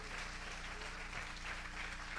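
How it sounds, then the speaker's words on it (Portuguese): A church congregation applauds in a faint, steady wash of clapping, heard from a distance with no clear individual claps standing out. "Volta para o lugar aplaudindo mais ainda o nome do Senhor."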